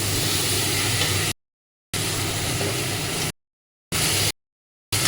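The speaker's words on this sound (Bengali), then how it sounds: "এই আলু মশলা কষাচ্ছে" Potatoes and spices sizzling as they're sautéed in a pan for a paneer dish, a loud, steady hiss that cuts off abruptly several times, with no talk over it.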